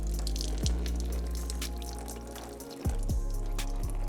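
Leftover coolant trickles and drips out of a Nissan VQ35DE engine during teardown, a steady close liquid splatter with a few sharper drip splashes, heard alone with no talking.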